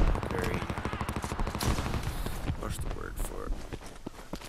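Rapid M4 rifle fire in the game Homefront, a fast continuous burst of close, sharp shots with someone talking over it throughout.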